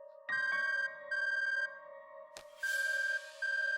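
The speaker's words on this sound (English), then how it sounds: "Kajiwara's phone rang and he pulled it from his pocket." A mobile phone rings with a bright electronic ringtone in short, evenly spaced bursts of repeating tones, interrupted once by a sharp click before the ringing resumes.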